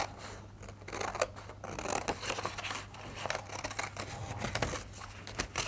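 Scissors snip through paper while shapes are cut out carefully for a children's card-printing craft, a close, steady series of short crisp cuts and rustles with no talking.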